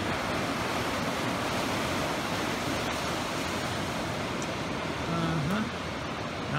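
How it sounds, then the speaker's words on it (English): Pacific Ocean surf breaking on a Hawaii shore, a continuous broad wash of waves and wind noise, steady and fairly loud with no pauses. "The Pacific Ocean."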